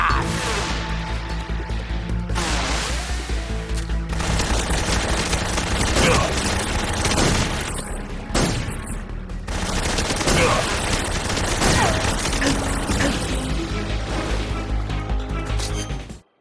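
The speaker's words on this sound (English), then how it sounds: "Tommy gun!" Rapid, loud Tommy gun bursts rattle almost continuously in Metal Gear Solid 3, with a few brief pauses between volleys and crashing impacts mixed in. A voice is heard under the gunfire.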